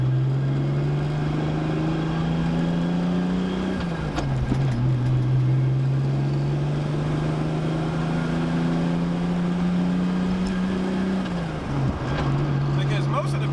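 A tuned Lexus GS 300 with about 500 horsepower crawls slowly up a hill. The engine gives a steady, loud drone whose pitch climbs gradually, dropping at two gear changes, while a person talks over it.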